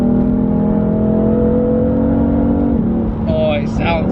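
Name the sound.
BMW F80 M3 engine with standard exhaust accelerating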